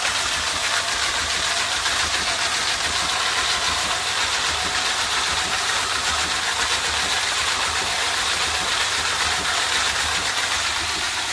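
A wet tumbler set to speed 3 runs steadily, cleaning brass cartridge cases for .357 Magnum reloading, giving a continuous close motor drone with a constant broadband wash and low hum and no pauses.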